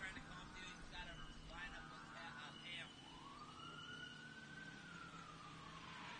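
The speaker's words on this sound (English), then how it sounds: "I hear some sirens in the woods." A distant siren wails in the woods with a slow rising and falling tone, heard faintly under steady background rumble and indistinct voices at an off-road race.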